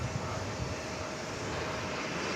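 Airliner at DFW Airport, an American flight, as a steady broadband engine roar that holds at an even, moderate level throughout with no talk.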